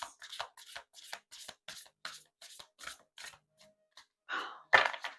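Tarot cards being shuffled by hand, a run of quick crisp riffling flutters followed by a couple of louder snaps, close and distinct with no talking.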